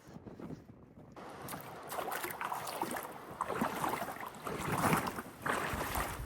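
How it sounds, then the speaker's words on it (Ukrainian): Strong wind by the sea buffets the microphone in gusty, roaring waves just beyond a cliff's shelter, with a broad rushing noise like open water nearby. "Тут вийшла тільки з-під скелі, сразу вітер задув."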